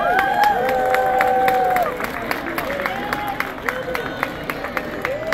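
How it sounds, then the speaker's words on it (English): An audience at a Purim costume contest applauds and cheers, with crowd noise mixing with clapping and voices. It is loudest for the first two seconds, then settles into steadier clapping. "let's give everybody a round of applause."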